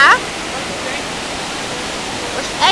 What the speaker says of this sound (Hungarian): ez itt az egyik vízesés, ugye a kettő közül az American Falls